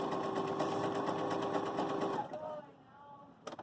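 A Baby Lock Jubilant sewing machine stitches a widened, taller zigzag with a fast, rapid chatter up close, then stops abruptly partway through, leaving quieter handling noises and a brief click near the end.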